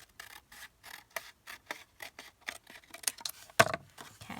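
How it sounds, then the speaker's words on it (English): Scissors snipping through craft material for an Easter embellishment project, a quick run of short crisp cuts that speed into closer, denser snips near the end, with no voices. "I do need to cut off some of this. And so we're going to cut this down."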